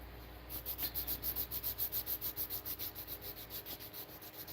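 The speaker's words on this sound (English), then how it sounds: "I just gotta sand the faces." Close, quiet sanding across the flat faces of wooden hoop earrings with fine 320-grit paper, a steady rhythmic back-and-forth rubbing of about four strokes per second that holds evenly for several seconds.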